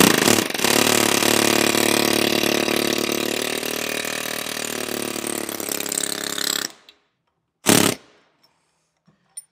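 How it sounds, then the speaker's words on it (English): A chisel works out an old shifter isolator bushing with a loud, continuous rattling drone for several seconds. It cuts off abruptly, followed by one short burst, close up and without talking. "And we just got to keep chiseling her out."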